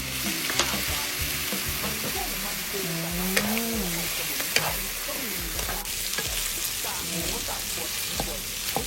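Shrimp with garlic and shrimp fat sizzle steadily in a pan, close and continuous, with occasional utensil scrapes and stirring; a voice is faintly present under the frying.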